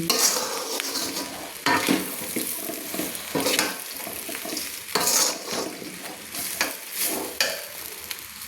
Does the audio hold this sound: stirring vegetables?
yes